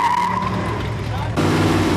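An Excalibur car oversteers as its back end slides around, a short loud tire skid with engine noise that cuts abruptly into a harsher, rougher roar.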